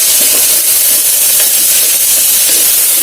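Something fries in a pan while coconut rice is being made, a dense, steady, loud sizzling hiss that runs without pause, with no voices over it.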